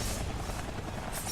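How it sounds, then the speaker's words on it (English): Helicopter rotor of an infected slime chopper in the action game Ninja Blade: a dense, steady whirring drone that fills the short span evenly, fairly faint with no talking over it. "is there somebody piloting this infected slime chopper, or is the infection literally able to pilot"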